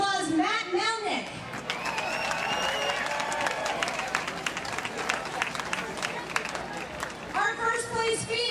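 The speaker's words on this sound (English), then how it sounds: "Big round of applause, Matt Melnick." Outdoor crowd applause for the first-place male finisher of a 5K charity race, clapping and cheering that swells mid-clip, with a speaking voice over a PA at the start and end.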